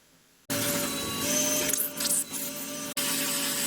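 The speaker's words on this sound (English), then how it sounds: "So I'm going to vacuum this as much as I can." A vacuum cleaner cleans out an engine intake that is being fitted with welded injector bungs. It starts suddenly as a loud, steady whooshing roar whose tone shifts as the nozzle moves, cuts out for an instant and then carries on, close by with no talking.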